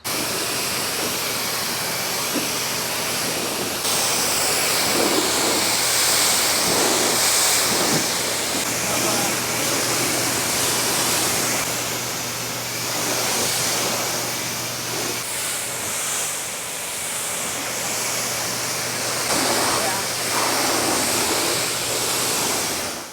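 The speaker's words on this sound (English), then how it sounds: "start rinsing it away" Water spray rinses chemical cleaner off a car's Gtechniq CSU ceramic-coated paint, a steady, loud hissing wash that rushes on without pause, swelling and easing slightly as the stream moves across the panels.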